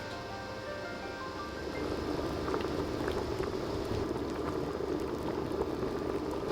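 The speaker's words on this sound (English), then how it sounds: "a rolling boil that you can't stir down." Carrot cake jam at a rolling boil in a pot, a steady dense bubbling and popping that grows slightly louder and continues throughout, close up with no talk.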